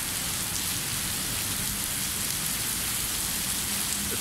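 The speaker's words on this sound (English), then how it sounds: "So lightning and rain in Kuala Lumpur is no joke." Heavy rain pours steadily in Kuala Lumpur, a dense, loud, unbroken wash of rainfall with no voices.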